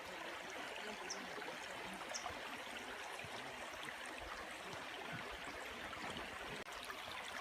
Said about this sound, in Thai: นี่น้ำตกธรรมชาตินะครับลงมาจากภูเขา